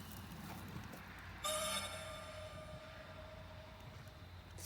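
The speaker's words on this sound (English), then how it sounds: "Sounded like a bit of a train whistle again" A train whistle sounds faintly in the distance as a sustained, steady tone that starts partway through and holds over a low background rumble.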